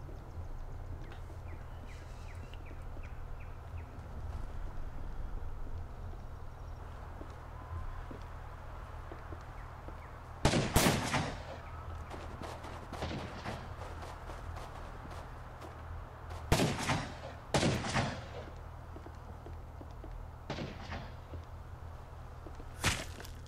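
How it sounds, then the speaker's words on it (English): Gunfire in Rust, shooting out pieces of a raid tower: sharp, sparse cracks in short clusters over a steady low ambient hum, moderately distant. "Pieces of the raid tower are getting shot out as Dirt and his crew attempt to build up."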